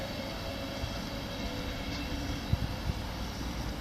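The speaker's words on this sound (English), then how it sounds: "Another mail train." A mail train passes through Wigan North Western station in the evening, heard as a steady, fairly distant rumble with faint clanks, without any voices.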